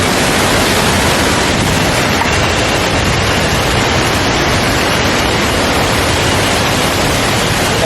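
Khun Phra Wo waterfall in Mae Ramat, Tak, rushes as a loud, steady, broadband roar of falling water that holds unchanged throughout, with no talk.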